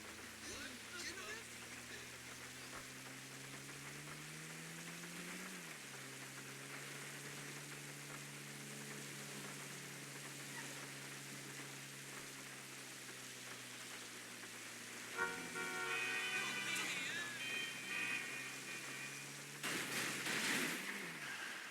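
A soft, even patter of rain in GTA V Online hisses throughout under a droning engine hum, with brief bursts of louder noise near the end.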